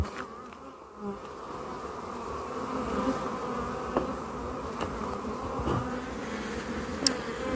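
Honey bees hum steadily around an occupied hive holding a new queen of the year, a dense continuous buzz with a few individual insects darting close past the microphone.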